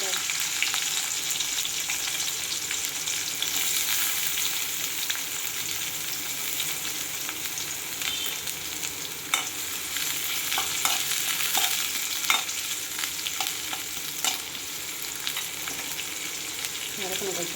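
Onions sauté in a pan for potato masala, with a steady hiss and crackle of frying throughout and occasional scraping stirs and clicks of a spoon, fairly close and consistent with no talking.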